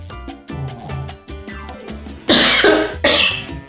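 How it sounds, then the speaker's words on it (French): Two loud, harsh coughs close by, heard over background music with a steady beat. "Et je tousse"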